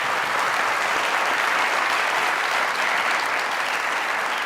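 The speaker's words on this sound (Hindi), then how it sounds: "चीमा साहब के लिए यार तालियां।" A studio audience at a Pakistani comedy talk show breaks into dense, steady applause for the artist Cheema, a loud, even wash of clapping with no break.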